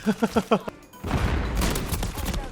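Shotgun blasts at close range in Call of Duty: Modern Warfare: a rapid burst of four or five near, punchy shots, then a sustained rumbling wash of gunfire and noise, with faint talk under it.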